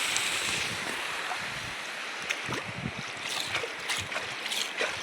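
River water rushing steadily after monsoon rains near a village, heard as a constant broad wash mixed with wind buffeting the microphone and some faint rustles, with no talking.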